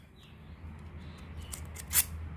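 Freshly sharpened scissors, edges scraped with a lighter's striker, give a few crisp snips near the end, one sharp metallic cut standing out over a low steady hum.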